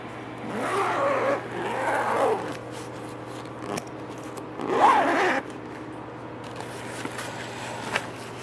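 A bag holding a Zenith Supersport laptop is unzipped in several close, raspy zipper pulls with quieter pauses in between.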